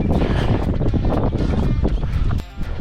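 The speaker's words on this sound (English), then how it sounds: "It's pretty windy today. A lot more wind than I'm used to." Gusty wind buffets the microphone during an outdoor run, with a loud, rumbling low roar that dips briefly near the end.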